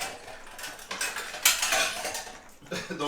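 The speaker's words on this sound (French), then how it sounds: "il va me faire un peu de vaisselle parce que j'ai un amas de vaisselle" A pile of dishes and cutlery being washed by hand, with close, irregular clinks, clatters and scrapes of plates and silverware. No one speaks.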